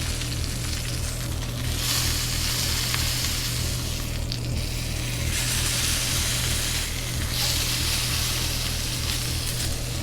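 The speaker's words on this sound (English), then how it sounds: "We're going to butter baste the other side. Sear off the sides, make sure you get all the fat." Steak sears in a hot pan while being basted with butter, a loud, steady sizzle with rising and falling bursts of spattering as the fat is spooned over, close and without talk.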